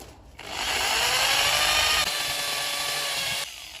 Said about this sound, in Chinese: 直接就是用三角钻头打吧